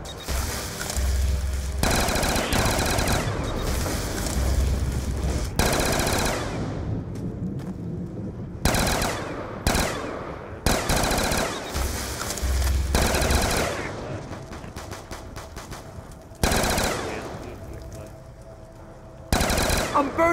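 Rapid automatic gunfire from the co-op zombie video game Mob of the Dead comes in loud, close bursts that are split by short pauses, with some talk under the shooting.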